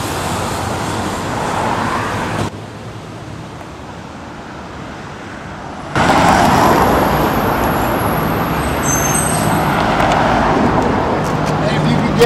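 A truck carrying things from the Bevatron drives past as a broad, steady roar of engine and road noise. It drops away briefly and then returns louder and closer.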